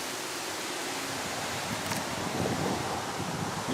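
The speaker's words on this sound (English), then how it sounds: "Still breezy." Steady broadband wind roar during a wind storm, a constant rushing hiss buffeting the microphone with no voices.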